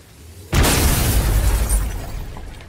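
A sudden loud boom erupts in the video game God of War and then rumbles on with crackling debris, slowly fading over a couple of seconds.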